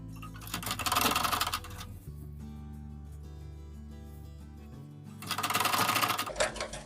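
A sewing machine stitches a waistband on a small girl's skirt, running in two loud, fast rattling bursts at the start and end with a steady mechanical hum and pause between them.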